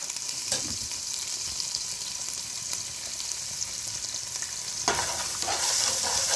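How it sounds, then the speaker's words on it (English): Mutton stew frying in a pot with turmeric, black pepper and salt, a steady close sizzle and crackle throughout with a few sharp stirring knocks, no talking. "I will let it fry, guys"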